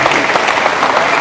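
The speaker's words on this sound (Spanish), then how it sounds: "Al hermano Eddie, un fuerte aplauso, que se escuche ese aplauso" Strong burst of applause from a church congregation welcoming a visiting brother, dense steady clapping filling the room, loud and close with no speech over it.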